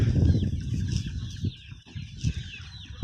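Backyard chickens clucking and squawking at close range, a busy overlapping chorus with scuffling and occasional flapping.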